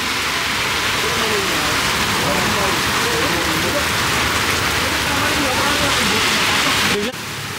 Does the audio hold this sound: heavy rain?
yes